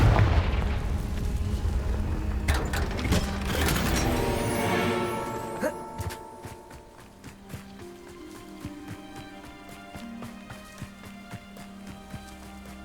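A Confringo fire spell blasting in the Hogwarts Legacy video game: a loud, rumbling burst lasting several seconds that fades into quieter game music with light rhythmic tapping.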